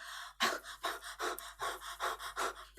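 A storyteller's voice performs a person panting after running, about eight quick, rhythmic, breathy gasps close to the microphone and fairly quiet, with no words.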